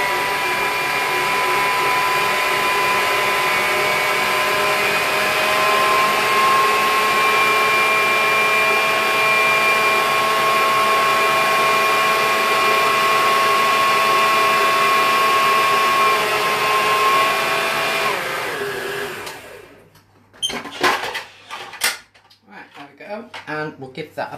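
An electric stand mixer whirs steadily and loudly as it mixes cupcake batter. The motor drone holds constant for about eighteen seconds, then cuts off, and clinks and handling noises follow.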